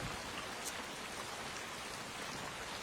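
Pouring rain in an episode of the war drama Band of Brothers, a steady, dense hiss of heavy rainfall that holds at an even level throughout, with no voices over it.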